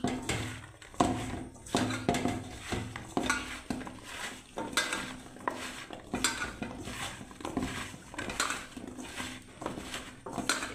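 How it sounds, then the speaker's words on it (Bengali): A metal kadai is set on a gas stove in a home kitchen, giving repeated close clanks, knocks and scrapes of metal on metal in an irregular rhythm. "দেখ আমি কড়াই চাপিয়ে দিয়েছি বন্ধুরা"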